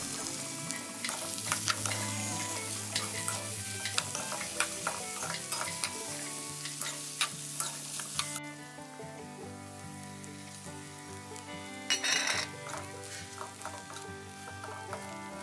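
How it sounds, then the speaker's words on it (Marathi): A Malvani-style ground spice and dried coconut masala is roasted in hot oil in a kadhai over a wood-fired chulha. Steady close sizzling runs throughout, with stirring scrapes, and no one speaks. "एका कढईत तेल गरम करून हे सगळं वाटपाचं मिश्रण बरं भाजून घ्यायचं"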